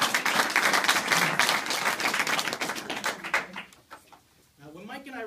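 Audience applause at a candidate forum breaks out loud and dense, then fades out after about three and a half seconds, leaving quiet room noise and a voice speaking near the end.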